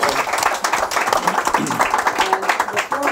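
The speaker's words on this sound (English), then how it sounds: "So please give Brother Jenkins an applause also." Audience at a talk with a jazz pianist and a music historian claps loudly and steadily throughout, with some voices mixed in beneath the applause.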